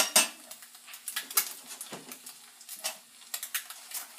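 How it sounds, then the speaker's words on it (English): A metal spatula scrapes and clinks against a frying pan as an egg is flipped, a rapid run of small sharp taps and scrapes, close and moderately quiet. "I'm going to go ahead and flip my egg here"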